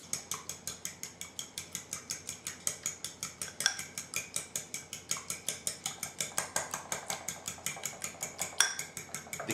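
Eggs being whisked for a cheese omelette: quick, steady metallic strokes clinking against a bowl, about four per second, close and even throughout with no talking.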